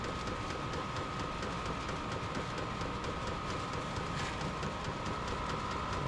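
A diesel heater running steadily after firing up, a continuous mechanical drone with a faint rhythmic ticking from the fuel pump, even and unbroken throughout, no voices.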